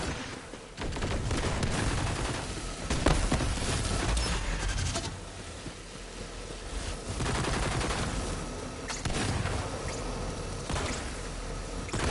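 Sustained fire from the Troubleshooter SMG in Borderlands 3, dense and loud, with rapid overlapping shots and impacts that keep going almost without pause for the whole stretch.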